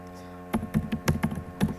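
Typing on a computer keyboard, a quick run of about a dozen close, crisp key clicks in an uneven rhythm over a faint background hum.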